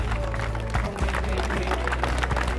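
An audience at a World Premier League event in Gurgaon applauds to welcome chief guest O.P. Dhankar, a dense steady patter of clapping mixed with crowd noise under a low hum.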